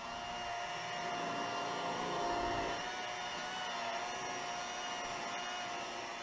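A polishing buffer spins at 1000 RPM on fresh car paint, giving a steady, close whine with a constant motor drone that swells slightly midway and then holds even to the end.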